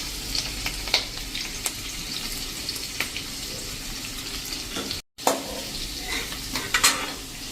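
Chopped ginger and chillies, then a few curry leaves, fry in hot oil for a dhokli curry, a quiet steady sizzle with occasional pops and utensil taps, briefly cut off.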